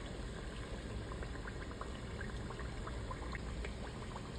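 Chalupa shells frying in hot oil until golden brown, a quiet continuous bubbling crackle with scattered small pops, steady throughout and without any talk.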